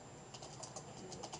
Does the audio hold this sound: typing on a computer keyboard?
yes